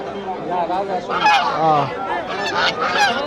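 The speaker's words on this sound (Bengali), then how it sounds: "আর এই যে এই দিকটাতেও আছে রাজহাঁস" Domestic geese honk repeatedly in loud, overlapping nasal calls at a rural poultry market, with people chattering in the background of a busy crowd.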